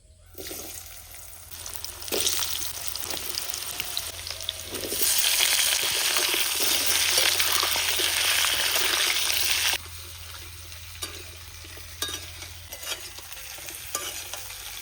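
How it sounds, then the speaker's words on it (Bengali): Potatoes and squash frying in oil left over from frying pabda fish give a steady, hissing sizzle. It swells louder midway as the pieces are stirred in the pan, then settles back to a softer crackle. "এবার মাছ ভাজা তেলেই আমি আলু আর কষটা ভেজে নেব"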